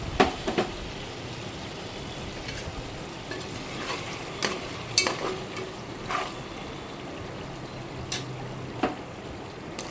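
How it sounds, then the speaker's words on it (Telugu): Tomatoes go into a homemade Telugu-style chicken curry frying in a pan, giving a steady close sizzle with scattered sharper clinks and stirring scrapes, and no talk over it. "ఇప్పుడు ఈ టమాటీలు కూడా వేసేసుకుందాం"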